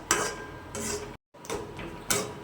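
Peanuts being stirred into melted jaggery in a pan for chikki (kadala muttayi), heard as steady scraping and clinking strokes at close range, repeating in a loose rhythm around one brief pause.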